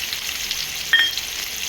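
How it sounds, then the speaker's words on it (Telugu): Green chillies and curry leaves fry in oil in a pan with a soft, continuous hiss and a brief louder crackle partway through, close and fairly quiet, with no talk. "కరివేపాకు, ఇవన్నీ కాసేపు వేగనిద్దాం."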